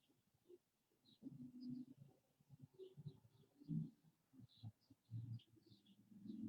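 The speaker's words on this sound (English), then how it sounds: "I can hear the birds" Faint, sparse high chirps from birds outside flicker over low soft coos and muffled thumps, quiet and distant with no talking.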